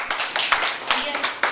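Several sharp hand claps ring out in a steady, even rhythm during a Hindi computer lesson on the Windows desktop, with a person speaking around them.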